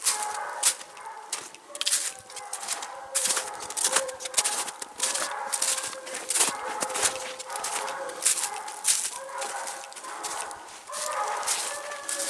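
Dixie, a coonhound on a coon hunt, bays loudly and raspily in repeated bursts with short gaps between them. The calls sound fairly close in an outdoor setting.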